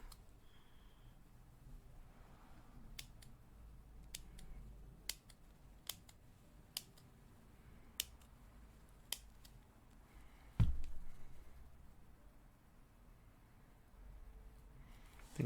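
Scissors snip gates off a molded designer toy part in a multi-piece mold, a series of sharp isolated clicks spaced about a second apart, close and quiet, with a louder clunk near the end.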